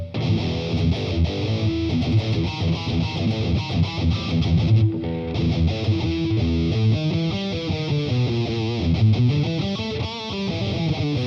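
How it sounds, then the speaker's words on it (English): Electric guitar played through a Boss Katana MKII amplifier on its metal distortion setting, thick saturated chords and riffs ringing loudly and continuously with no talk. "So that's your metal distortion"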